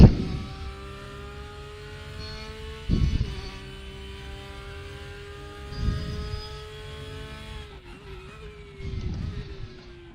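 A race car in the RaceRoom racing game drones steadily from the cockpit, with small cracks and transmission clunks breaking in at a few points and slight shifts in engine pitch, heard alone with no talk.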